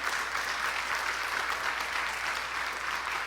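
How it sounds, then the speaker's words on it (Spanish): A church congregation gives sustained, even applause, a dense wash of many hands clapping with no voices above it. "¿Le puede dar un aplauso al Señor con todo su corazón?"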